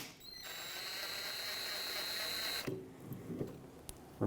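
A ratchet working loose a 12 mm brake hose banjo bolt on the rear caliper of a 2013-2018 Hyundai Santa Fe, heard as a steady mechanical whir and clicking for a couple of seconds, then a few scattered clanks and knocks of the tool up close.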